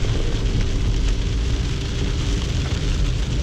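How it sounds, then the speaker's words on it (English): Heavy rain pours down during a car drive, a dense, even hiss and patter on the vehicle that stays loud and constant with no voices. "it's been pouring and streaking everywhere"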